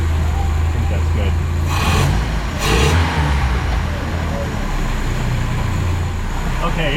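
A carbureted engine idles steadily at about 1,000 RPM, a continuous low rumble that is loud and close, with a couple of brief broadband bursts partway through and no talk over it.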